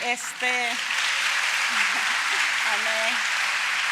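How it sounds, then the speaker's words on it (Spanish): A church congregation applauding steadily as broadband clapping throughout, while a voice speaks briefly over it. "Si va a dar ese aplauso, déselo al Señor, y fuerte."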